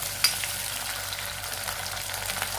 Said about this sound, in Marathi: आता हे तळत आहे